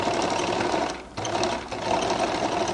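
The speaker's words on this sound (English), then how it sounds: "where I just finished sewing my stitch." A sewing machine runs steadily while stitching a seam on a flared skirt, a loud, close, rapid mechanical whir with a short dip in pace near the middle before it carries on.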